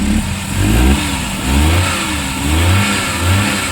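A Suzuki K6A car engine, in a DA64 vehicle with an overheating problem, runs close and loud, rising and falling through several rev surges over a steady low idle, alone with no talk.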